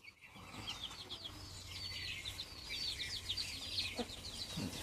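Chickens cluck softly in the distance, a faint, scattered chatter over a low background hum.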